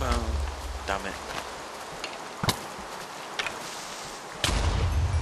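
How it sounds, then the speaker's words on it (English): A Minecraft creeper explodes in a game, a sharp broadband blast near the middle followed by a second loud burst near the end, over steady rumbling game ambience and brief voice-like sounds. "Don't explode, Creeper!"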